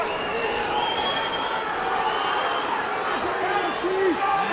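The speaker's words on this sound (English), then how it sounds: "you can hear the crowd here at the arena, everybody on the feet" Boxing arena crowd on its feet cheering during the eighth round of a Welsh Area lightweight title fight, a continuous roar with shouts rising near the end and commentary running over it.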